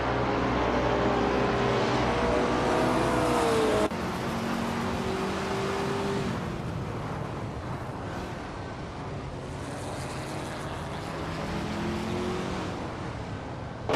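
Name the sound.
racing car engines in a racing video game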